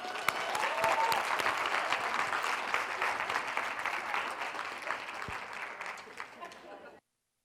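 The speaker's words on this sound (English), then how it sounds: "Let's give her another round of applause." An audience gives a talk on play a round of applause, with steady clapping and a few voices that fades gradually before cutting to silence.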